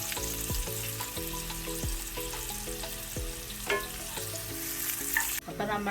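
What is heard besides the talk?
onions sautéing in a pan until brown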